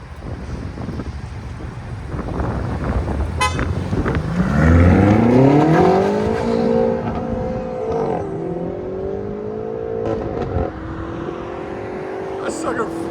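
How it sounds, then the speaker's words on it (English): BMW M5 4.4L twin turbo V8 with a resonator delete and valved exhaust, revving up in a rising engine tone that climbs, holds and settles back. It sounds fairly close, with wind buffeting the microphone throughout. "BMW M5 with a res delete. It's got valves, so straight pipe basically."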